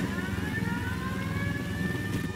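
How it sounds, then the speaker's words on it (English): Helicopter engine and rotor drone from the video game Ghost Recon Wildlands, a steady loud whine with low rumbling throughout, close and continuous with no talking. "I'm in a chopper, bro."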